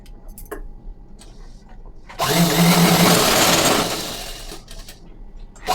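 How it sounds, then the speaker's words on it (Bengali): A sewing machine stitches coat collar fabric in one continuous loud whirring run of about a second and a half. Quieter handling noises come before and after it. "তো পেছন পাটটা করার জন্য আমি আগে পুরোটা সেলাই করে নেবো"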